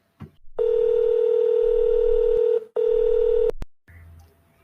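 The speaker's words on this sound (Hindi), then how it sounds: "सोने से पहले एक बार सूरज को फोन कर लेती हूँ" A telephone dial tone plays, a loud steady beep that stops briefly and then resumes, followed by a short click.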